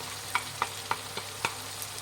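Green masala paste fries with capsicum in hot oil, a soft steady sizzle broken by five or six sharp spoon clacks against the pan, roughly evenly spaced, close and fairly quiet with no talking.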